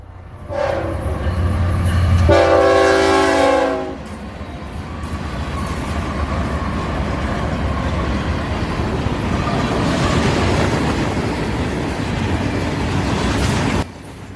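FEC northbound freight train with a heavy multi-locomotive lash-up passing at track speed at night, a loud horn blast near the start followed by a long, steady rumble and clatter of rolling cars.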